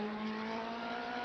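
A race car in the Le Mans Ultimate sim racing game at Portimao holds a steady, loud engine drone with a constant pitched tone, heard alone and without any clear rise or break.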